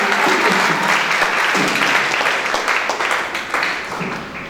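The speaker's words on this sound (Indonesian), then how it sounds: "Kita tepuk tangan dulu." An audience at a Christmas gathering in Majalengka breaks into loud, dense applause, with many hands clapping together before the sound slowly thins and fades toward the end.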